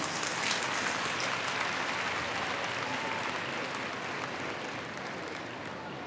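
An audience at the closing ceremony of the Lokmata Ahilyabai tricentenary celebration in Indore claps steadily for several seconds, a dense, even patter of many hands that eases slightly toward the end.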